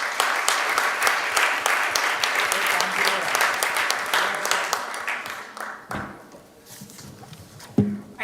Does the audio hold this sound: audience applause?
yes